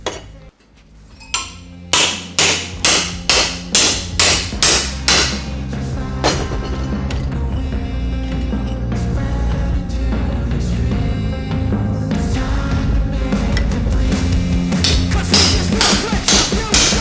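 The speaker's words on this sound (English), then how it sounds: "I'm just going to beat the living suitcase out of this with a hammer in the vise and just shape it" A metal strut brace for a Mazda RX4 with a Barra engine swap is hammered into shape while clamped in a vise: about a dozen loud, evenly spaced metallic blows, then dense continuous clanging and ringing as the shaping goes on.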